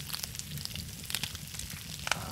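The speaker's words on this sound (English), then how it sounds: "I hear the sizzling as if something's" Fat sizzling on a cooking fire in the survival game SCUM, a steady crackling hiss with scattered sharp pops, moderately close and heard on its own.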